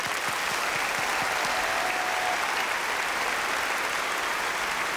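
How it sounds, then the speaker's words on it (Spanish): A crowd applauding the sports commentators at a studio program, a sustained even roar of many hands clapping, steady in level throughout with no voices standing out. "Un fuerte aplauso, por favor."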